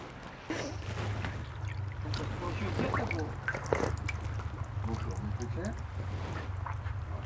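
Sour mineral spring water trickles steadily from its source with soft splashes and drips, close by, as people talk nearby.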